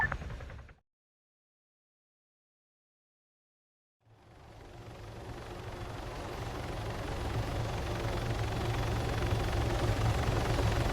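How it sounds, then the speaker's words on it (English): An extraction helicopter in the military shooter Arma 3 Apex, its rotor and engine rumble rising out of silence and building into a steady, loud drone. "Raider call signs, extraction helo on standby."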